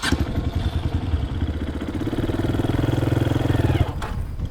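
A dirt bike engine revs under throttle, a loud close mid-pitched rumble that climbs and holds steady before cutting off sharply near the end, with a short clattering idle after.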